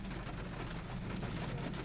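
A heavy downpour during a thunderstorm in Littleton, Colorado makes a dense, steady hiss of rain drumming on surfaces. It is constant and close throughout a brief stretch.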